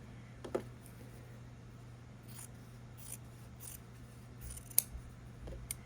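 Scissors snip through quilt fabric, trimming overhanging edges of a quilted heart block, giving a handful of quiet, scattered cuts over a faint steady hum, close and soft.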